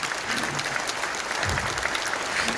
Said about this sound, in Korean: 바이든 대통령께 진정으로 감사하는 마음을 갖고 우리가 그때도 박수를 쳐드렸지만 여러분 지금 한번 박수를 쳐드리는 그 마음이 있습니다.